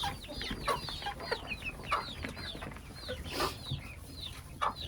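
Backyard chickens clucking close by, a busy run of short, overlapping clucks and chirps from several birds over a low background.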